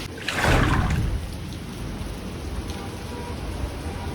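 Heavy rain falls at night in Dehradun, a dense steady wash of drops that swells loud over the first second and then settles into a constant hiss, with no voices.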